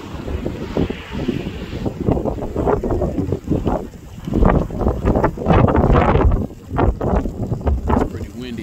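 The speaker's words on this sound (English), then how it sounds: "It's pretty windy out, trying to keep it steady for y'all too." Strong wind buffets the microphone outdoors at a Porsche racing event, a steady loud rumble and roar with gusting surges throughout the clip.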